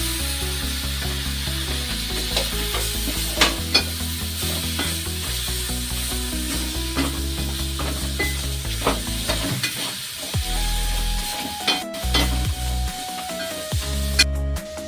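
Chopped pineapple for pickle stirred and frying in a pan, a continuous loud sizzle with repeated scraping and clinking of a spoon against the metal, close up with no talking.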